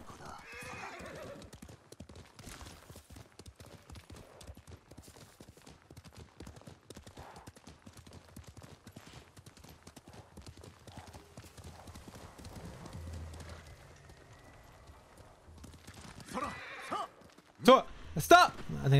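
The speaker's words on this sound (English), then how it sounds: "Come on, horsey. Let's go, Sora." Horse hooves clip-clopping at a gallop in the video game Ghost of Tsushima, a quick rhythmic patter running throughout, with a loud whinny and snorts near the end and occasional talking.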